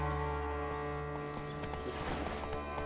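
Horse hooves clip-clop in an even rhythm in The Witcher 3: Blood and Wine, over a droning music bed, with a horse's snort or whinny faintly mixed in.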